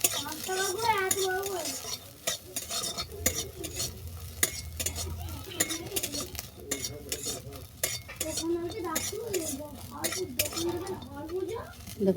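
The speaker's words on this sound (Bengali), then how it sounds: "সয়াবিনটা হালকা বাদামি করে ভেজে নিচ্ছি দেখো" Soya chunks fry in a pan, turning light brown, with a low sizzle under repeated scraping and clinking strokes of a spoon. A person talks throughout.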